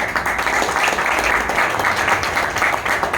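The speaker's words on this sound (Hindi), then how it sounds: "मैं चाहूँगा एक बार आप सभी लोग अपने लिए भी एक जोरदार तालियां" A crowd at a success-journey gathering in Meerut gives loud, sustained applause, a dense continuous roar of many hands clapping with no break.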